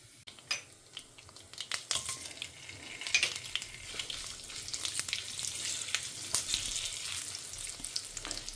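Mustard seeds and cumin fry in hot oil in a pan, crackling and popping in quick irregular bursts over a steady sizzle that builds slightly, close by with no speech.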